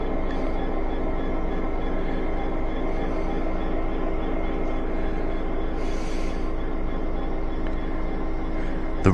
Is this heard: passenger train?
yes